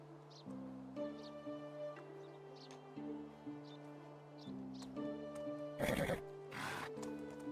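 A horse in the medieval farming game Medieval Dynasty neighs in several loud, tonal whinnies over steady ambient game tones, followed by two sharp bursts of snorting noise near the end.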